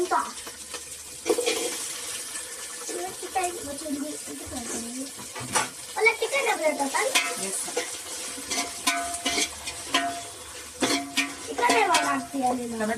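Tomatoes fry in hot oil with a bubbling sizzle, broken by repeated stirring and scraping strokes, while voices talk intermittently in the background.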